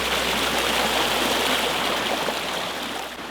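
A flowing stream among banana plantations in Cateel, Davao, Philippines: a steady, broadband rush and gurgle of water, close and loud, continuous throughout with no talk.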